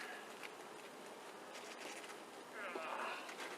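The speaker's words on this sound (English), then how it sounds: "Quite a few bees on this frame." Honey bees swarm over a hive frame during an inspection, giving a steady, close insect buzz with a louder, denser swell near the end.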